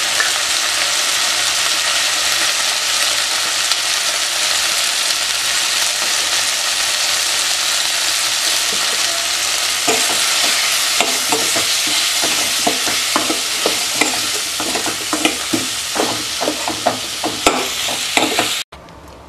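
Spices sizzling in hot oil in a pan for a jackfruit gravy, a steady close frying hiss with a run of quick scraping stirs and clicks toward the end, no voices.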